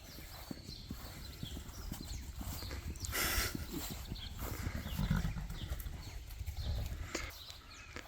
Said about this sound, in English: Uh-oh, we got a horse on the loose.